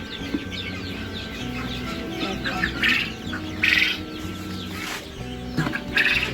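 Continuous high-pitched peeping and cheeping from many newly hatched chicks close by at a poultry farm, with scattered louder chirps over a busy background.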